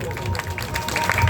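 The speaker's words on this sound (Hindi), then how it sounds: "हाथ उठा के ताली बजाओ" A crowd claps together during a Bhagavat religious discourse, a dense, steady patter of hands that runs the whole moment with voices mixed in.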